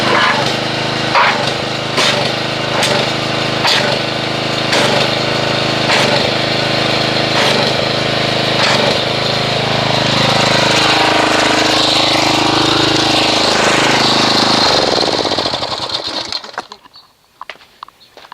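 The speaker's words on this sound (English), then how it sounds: "let's go ahead and get the pressure washer and" Pressure washer motor droning steadily and loudly while foaming car wash soap mixed from Armor All Wash n Wax and Meguiars Gold Class, with rhythmic pulses, then cutting off abruptly near the end.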